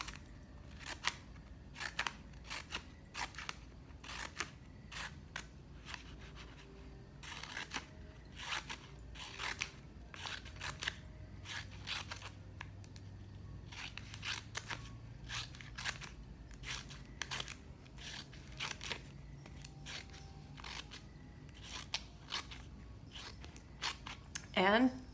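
Scissors snip through paper in a quick, irregular series of crisp cuts while shaping a paper quill, close up, with a person talking quietly underneath.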